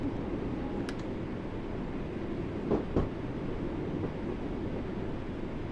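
A Class 484 former London Underground tube train in a train simulator game rumbles steadily through a tight tunnel, with a low continuous roar and a few faint clunks from the wheels.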